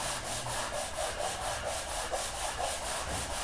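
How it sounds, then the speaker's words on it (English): Rhythmic hand sanding of wood, quick back-and-forth rasping strokes repeating evenly, close and fairly loud. "it's going to start to feel like you're polishing it instead of like you're sanding it"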